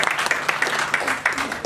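A television studio audience at a Christmas show claps steadily and fairly loudly to welcome a young girl singer, with dense, rapid applause throughout.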